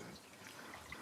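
A weak but regular trickle of very pure water in an ancient desert tunnel, a faint, steady, thin flow heard alone and close by.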